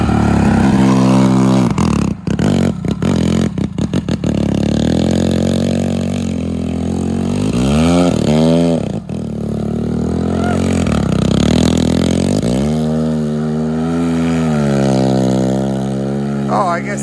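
A massive motor revs as throttle is applied in short blips, its pitch climbing and falling in sweeping bursts, loud and close, with a few sharp clatters early on.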